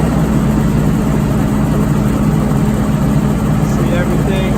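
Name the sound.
MEP805B generator engine starting up and running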